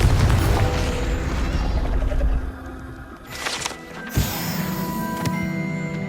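A fiery Confringo blast spell in Hogwarts Legacy bursts loudly at the start and rumbles away, followed by quieter magical whooshes and a sharp chime-like flare, with no one speaking.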